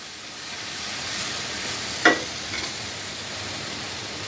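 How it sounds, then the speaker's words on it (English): Beef chuck sautéing in a pan, a soft, steady sizzle with one small clack of a utensil partway through and no voices. "All we're doing right now is allowing these to saute up."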